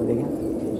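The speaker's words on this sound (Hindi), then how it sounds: "बहुत बहुत प्यारे कबूतर हैं माशाल्लाह। ये कबूतर देखें" Pigeons on a rooftop loft coo softly in a brief low murmur, close by.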